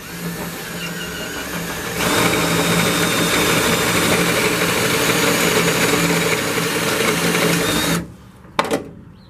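A power drill whirs steadily at high speed for several seconds drilling out a rivet on a Jeep, then stops, followed by a couple of sharp metallic clicks.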